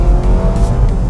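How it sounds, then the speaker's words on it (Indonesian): A Honda Civic RS e:HEV in sport mode accelerates hard, its engine note loud, close and steady for about a second with no talk. "ini kita coba mode sport, kita bejek dikit tarik tenaganya seperti apa"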